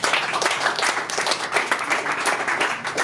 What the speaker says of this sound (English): clap your hands to Mike and enjoy the next presentation